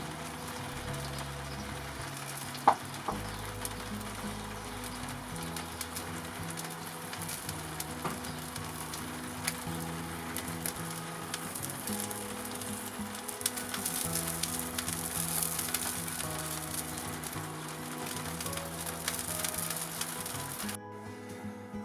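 A brined turkey crown sizzles steadily on a kamado grill, with a constant crackling, spitting fry noise throughout and a faint hum underneath, until the sound cuts out abruptly at the end.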